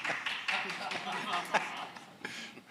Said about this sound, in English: First spontaneous clap of the 2 days.